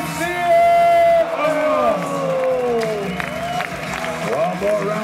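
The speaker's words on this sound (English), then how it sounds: "One more round of applause for Bucky." Spectators at a pro/am vert skateboarding final whoop, cheer and clap for skateboarder Bucky. The loud, steady crowd noise carries high shouts and whistles and runs without a break across the whole stretch.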